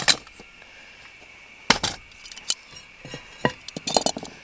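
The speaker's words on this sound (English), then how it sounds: "I'll get rid of this whole trangia" Metal pieces of a Trangia camping stove cookset clink and clatter as they are handled, in a few scattered sharp bursts with quiet gaps between them.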